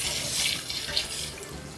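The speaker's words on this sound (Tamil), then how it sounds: "இப்ப தண்ணி ஊத்திடலாம்." Boiled water from a pan on the next stove burner is poured into a pot of chicken biryani rice, a steady splashing pour heard close and alone.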